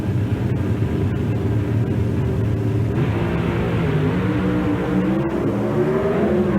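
NHRA Pro Stock drag cars in a 1995 final round roar in a loud, sustained engine rumble with rising, revving pitch and no pause, heard from trackside.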